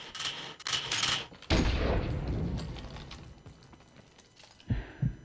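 A stun grenade goes off in a competitive tactical shooter match, a sudden loud burst followed by a long ringing, decaying wash of noise, with brief mechanical clicks and gunfire before it and a few sharp sounds near the end.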